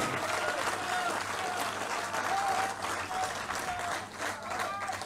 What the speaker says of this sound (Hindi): एक बार तालियां बजा के जोरदार स्वागत कीजिए सिंधिया जी का